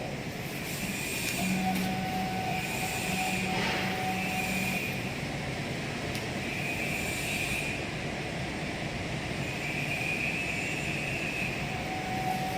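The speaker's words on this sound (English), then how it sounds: "Now the machine will reset again, then machine will run in auto mode." Turning conveyor machine running in auto mode, a steady mechanical hum and whir with faint tonal whines and light clatter, continuous and fairly close throughout with no talk.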